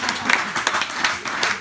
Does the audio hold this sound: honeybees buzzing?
no